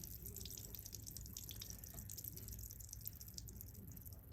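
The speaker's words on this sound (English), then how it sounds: "I'm going to let water drain out the the main drain" Water draining and dripping from the main drain of an upflow air handler coil during a safety switch test, a steady faint trickle with scattered drips close by and no talking.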